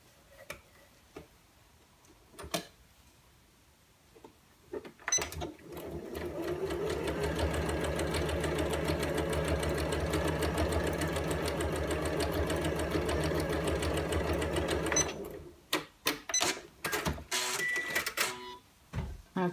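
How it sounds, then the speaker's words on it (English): A sewing machine runs a straight stitch along a cushion cover hem, a fast steady mechanical whirring and ticking lasting about ten seconds, framed by scattered clicks and handling noises before and after. "sew a straight stitch down there"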